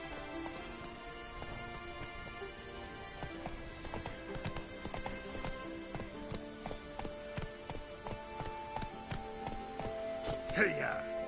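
Roach the horse galloping in The Witcher 3: Wild Hunt, a steady rhythmic clip-clop of hooves amid rain and game music, with a voice near the end.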